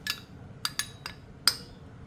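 A utensil clinks against a bowl while sourdough starter is mixed, five or six sharp, bright taps spaced irregularly over two seconds, close and quiet with no talk.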